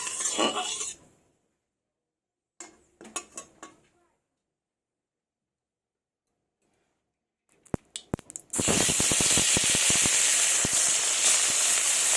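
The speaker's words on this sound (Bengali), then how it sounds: "মাছগুলো ভেজে নেব লাল লাল করে" Fish coated in salt and turmeric goes into hot mustard oil in a wok. After near silence and a few clatters, a loud crackling sizzle bursts in and continues steadily to the end.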